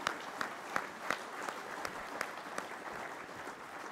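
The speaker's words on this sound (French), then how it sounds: "Je voudrais simplement quand même que vous les applaudissiez," Audience applause at a cooperative's general assembly: a steady wash of many hands clapping at moderate distance, with sharper individual claps standing out throughout, no voices over it.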